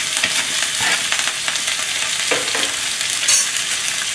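Pepper, butter, shiitake and wheel mushrooms sauté in butter with ginger, garlic and homegrown thyme, sizzling loudly and steadily up close, with the rustle and scrape of a quick toss in the pan and no talking.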